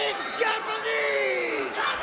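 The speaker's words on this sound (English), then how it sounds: "To the crowd yelling at him." A wrestling crowd at a GEDO versus Scot Summers match yells and jeers, a dense wash of voices with rising shouts, loud and continuous throughout.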